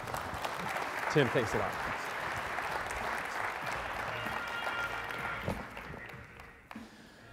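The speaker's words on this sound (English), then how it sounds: "Everybody, let's give him a round of applause." An audience at a live stage show applauds steadily for several seconds, a dense wash of clapping that fades toward the end, with a voice speaking briefly over it.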